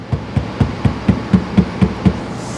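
Light taps on a filled car body panel during home dent repair, about nine soft, evenly spaced knocks at close range with no talking.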